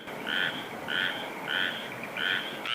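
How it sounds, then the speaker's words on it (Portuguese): A chorus of frogs and toads calls near a pond, repeated rhythmic croaking pulses about every half second, fairly close and steady against a soft night background, with no voices. "um coral ensurdecedor de sapos, rãs e pererecas"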